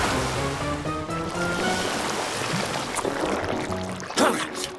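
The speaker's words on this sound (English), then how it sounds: "Morphle, spray their slime away with your water." Cartoon water spray blasting slime off a police officer's car, a broad rushing, splashing wash heard continuously with music and voices behind it.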